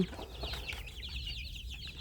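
Young mixed-breed chickens cluck and chatter in a steady farmyard murmur, several birds close by with overlapping calls and no talking.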